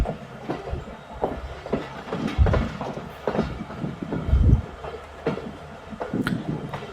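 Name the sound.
Bolan Mail train arriving at Spezand station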